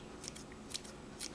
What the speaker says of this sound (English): So you can cut this little, very refined ciboulette onion